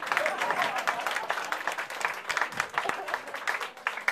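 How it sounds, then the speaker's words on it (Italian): Applause from a theatre audience at an Italian comedy show, dense steady clapping running for the whole stretch at close range, with a few louder individual claps standing out. "fatevi un applauso"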